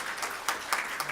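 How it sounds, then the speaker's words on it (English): Conference audience at a cybersecurity event in Bucharest giving a short round of applause, a brief patter of scattered claps with a few sharper hand strikes, fairly quiet. "but let's give an applause first."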